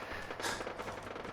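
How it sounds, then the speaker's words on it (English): Gunfire in the video game Fallout 4, a continuous dense crackle of rapid shots with a louder burst midway, fairly close and sustained across the short stretch. "Some more gunfire."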